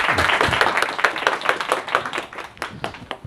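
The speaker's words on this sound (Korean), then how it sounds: "인사말 뜨거운 박수로" Audience clapping at a youth talk event, fairly sparse and uneven, with individual hand claps standing out in a loose, irregular rhythm rather than a dense roar.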